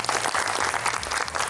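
Studio audience on a Bulgarian game show applauds a contestant, a brief burst of dense, steady clapping heard on its own.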